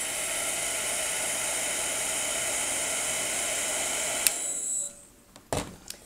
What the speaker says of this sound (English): I'm going to go ahead and blow my blow dryer for about 3 to 5 seconds.